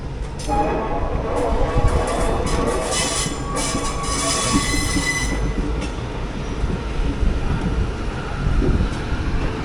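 Summer Special train 06576 rolls into Bengaluru SMVT, its carriages rumbling loudly and continuously with wheels squealing against the rails.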